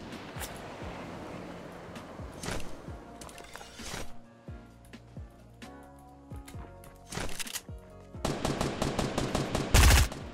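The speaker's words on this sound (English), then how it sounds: "That was my SMG. Or my AR." Bursts of SMG or assault rifle fire in a Fortnite battle royale match: rapid strings of sharp shots alternating with single cracks, growing denser toward the end, with no talk.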